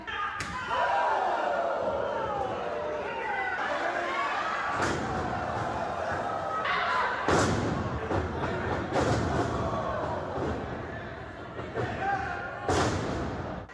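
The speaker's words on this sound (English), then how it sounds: "The thud of a strike or the impact when they take a bump." Heavy thuds and slams of wrestling strikes and bumps at a live show land at irregular intervals over a noisy crowd, each impact sharp and booming.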